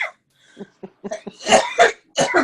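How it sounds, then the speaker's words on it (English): A person coughs several times in short, dry bursts, ending with a couple of louder, harsher coughs close to the listener. "I just hate the sound of coughing so much"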